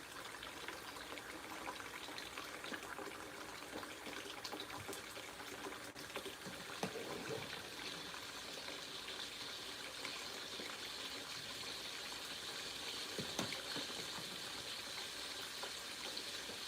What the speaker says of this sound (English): Wait, making some dishwater.